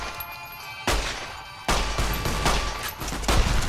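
Gunfire from companions in Fallout: New Vegas cracks out in loud, close bursts, with several abrupt shots and volleys spaced unevenly over a few seconds.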